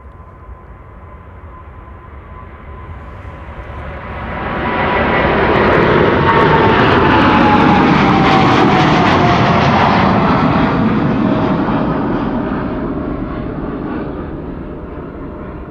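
A five-year-old airliner departing Amsterdam Schiphol Airport, its engine roar building from a distance into a loud, close rumble with a falling whine, then slowly fading as it climbs away, no talk.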